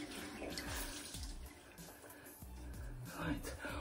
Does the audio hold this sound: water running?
yes